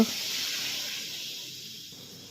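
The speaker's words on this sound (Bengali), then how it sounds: "এখন ঝুলো রেডি একটু গরম জল দিয়ে দেওয়া হবে" Hot water poured into an egg-potato curry cooking in hot oil and spices sets off a loud, sudden sizzling hiss that fades steadily over a couple of seconds, with no talk.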